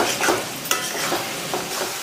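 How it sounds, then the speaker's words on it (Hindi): Mutton keema cooking with ginger-garlic paste and green chili, frying and sizzling steadily in a dhaba-style kadai, with a spoon stirring and scraping through it in several close strokes. "यहाँ पे मैं 2 से 5 मिनट अच्छे से भून ली हूँ अदरक लहसुन का पेस्ट और हरी मिर्ची डाल के"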